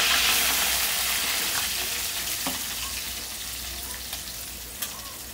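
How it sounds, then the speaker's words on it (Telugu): Onions, cumin seeds and curry leaves fry in about four spoons of hot oil for a dry fish egg curry, giving a dense, continuous sizzle with occasional light pops and stirring taps. "నూనె కాగింది కదండి. కొద్దిగా జీలకర్ర, కరివేపాకు, ఉల్లిపాయలు కూడా వేసుకున్నాను."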